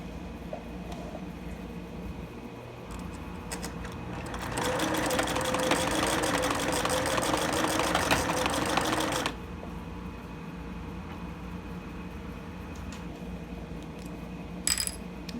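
A sewing machine runs steadily for about five seconds during free motion quilting of a small wall quilt, a loud continuous whirring buzz against quiet room noise, with soft handling sounds before and after.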